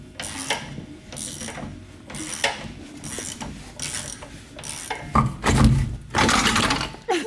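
Ratchet wrench tightening bolts on an SRZ motorcycle, giving close, repeated clicking and rasping bursts separated by short pauses, ending in a few louder metallic clanks, with no talk.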